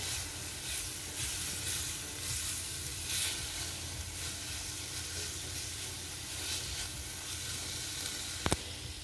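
Bulgur mixture with green chilies being stirred in a hot pan, giving a steady loud sizzle and hiss throughout and a single sharp knock near the end, with no talking.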